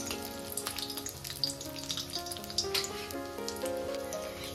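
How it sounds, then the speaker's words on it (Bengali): A fish head frying in a pan for dal, with a soft crackling sizzle and small pops close by, while tonal hum and clatter from a busy home kitchen sit underneath. "মাছের মাথাটা একটু ভেজে নিচ্ছি।"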